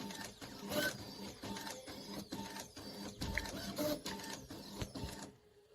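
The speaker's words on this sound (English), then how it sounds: "Oh, Calvin, the printer's been going all afternoon." An office printer runs steadily with rhythmic mechanical passes and clunks repeating every second or so, moderately loud and close, then cuts off abruptly near the end, with no talking.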